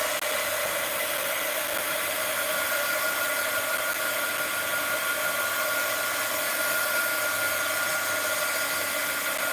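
A hair dryer blows steadily and loudly at close range, drying paint on a canvas, with no talking over it.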